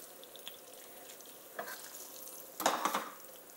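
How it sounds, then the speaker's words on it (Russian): Pieces of meat dropped into a hot frying pan for French-style cooking, giving soft sizzling with a few sharper crackles and pan clatter, fairly quiet and close, no talking. "И вот на горячую сковородку отправляем кусочки."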